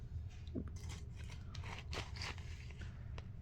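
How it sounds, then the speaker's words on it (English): Cinnamon Pebbles cereal being eaten from a spoon, with close, crisp crunches and crackles coming in irregular bursts as it is chewed. "I think it's a little crackle like the Rice Krispies."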